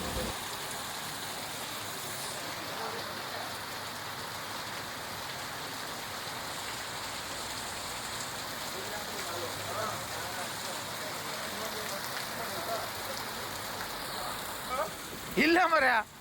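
Heavy torrential rain at night in Sagara town, a steady dense roar of downpour on surfaces filling the whole stretch, with a brief clatter near the end.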